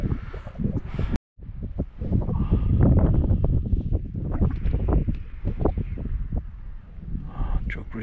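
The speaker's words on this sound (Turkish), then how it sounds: "Çok rüzgar var." Strong wind buffets the microphone high on a mountain, producing heavy gusting rumble with rustling, while someone talks intermittently over it.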